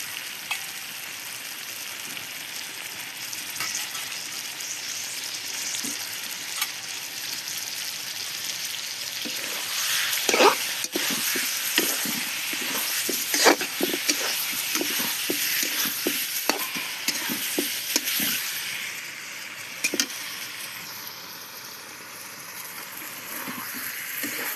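Meat cooking in a pan with fried onions for a Bengali meat and potato curry, giving a steady, dense sizzle and crackle throughout with scattered sharper pops and spatters, close and continuous with no talking.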